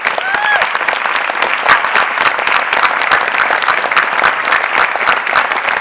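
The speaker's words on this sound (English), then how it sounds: "I'd like to give them a round of applause." Sustained audience applause at the 2013 Pinnacle Awards ceremony, as a table of guests is honored; dense, steady clapping fills the room at full volume with faint crowd noise and no pauses.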